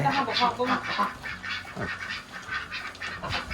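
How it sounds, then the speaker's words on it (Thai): Many laying ducks quack together in a steady, busy chorus close by, the calls overlapping continuously with no clear pauses. "อ๋ออันนี้เป็ดไข่ น่าจะเป็นเป็ดเชอรี่นะครับ"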